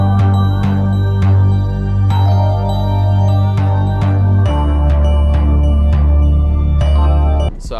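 West Coast trap beat made in FL Studio thumps along loud and steady with deep bass, crisp repeating hi-hats and bright bell-like melody tones, and the low end shifts partway through.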